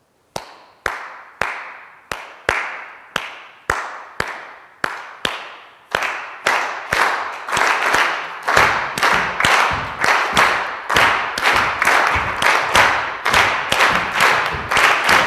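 Hand claps ring out in a Ghanaian dance rhythm, sharp and close, starting as a sparse steady pulse and then thickening into dense, fast repeating cycles as more hands join in.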